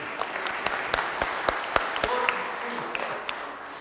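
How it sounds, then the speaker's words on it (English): An audience at a church mission gathering in Troy, New York gives a warm round of applause, a dense wash of clapping with a few loud individual claps standing out, lasting the whole stretch. "Let's give Andy a nice round of applause."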